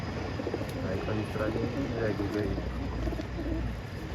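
Pigeons cooing softly in a loft just before release, low repeated coos over a faint background hum, with a few chirps and light movement.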